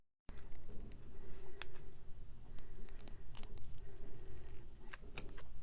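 Scissors snipping around a paper circle for a papercraft project, a string of quiet, close crisp cuts with soft paper rustle between them and no talking.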